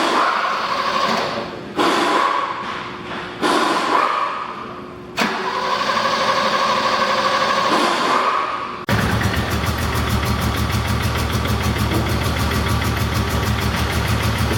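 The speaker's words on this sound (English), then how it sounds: "Is that another throttle response right now?" A 1982 BMW 323i E21 with a Schnitzer Hardy & Beck turbo engine cranks in several separate bursts, then catches and settles into a loud, continuous running rumble heard up close.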